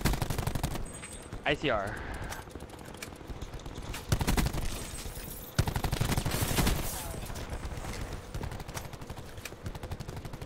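Video game gunfire comes as loud rapid bursts of automatic shots and sharp single cracks throughout, mixed with game effects and a player's voice talking over the action.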